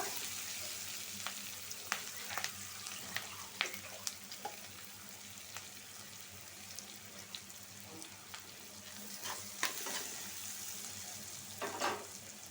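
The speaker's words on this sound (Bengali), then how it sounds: "এখন আমি আস্তে আস্তে মশলা দিয়ে দিব" Spices sizzling in oil in a wok alongside an onion and green chili paste, a steady moderate frying hiss punctuated by sharp scrapes and taps of a stirring spoon.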